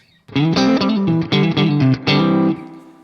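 A Laney electric guitar amp in clean mode plays a short series of clean, bright chords, with each strum ringing, ending in a sustained chord that fades.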